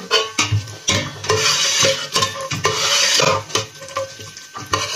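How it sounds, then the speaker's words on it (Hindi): Seviyan vermicelli is stirred and fried in a pan over a low flame, with repeated scraping strokes of a spoon against the metal over a soft sizzle. "इनको थोड़ा सा हम फ्राई कर लेते हैं आग थोड़ी आंच पे"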